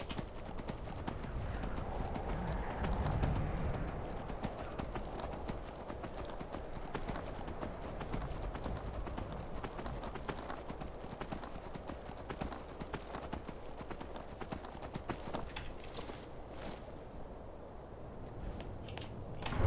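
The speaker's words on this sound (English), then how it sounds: "Grab your horse." Steady hoofbeats of a galloping horse in Skyrim continue throughout, loud and rhythmic, with a brief whinny-like burst near the start and game ambience underneath.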